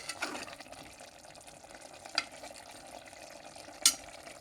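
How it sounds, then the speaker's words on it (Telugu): Okra and mutton curry with masala sizzles and fries in a pan while being stirred, a soft steady crackle with a few sharp clinks of the spoon against the pan. "ఇప్పుడు ఇవన్నీ కలిపి మసాలాలంతా బెండకాయ పెట్టే వరకు వేయించే"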